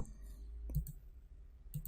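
Two quiet computer mouse clicks about a second apart, made while opening Excel, in an otherwise near-silent room.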